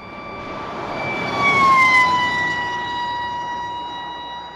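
An emergency siren on a car passing at around 140 km/h wails steadily, then drops sharply in pitch as it goes by, loud and close at the pass before trailing off.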